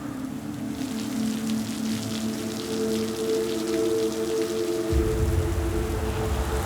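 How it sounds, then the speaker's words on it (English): Steady rain falls over Singapore during a cold snap, a dense continuous patter and hiss that holds evenly throughout, with a deeper low rumble joining near the end. "The rains keep coming."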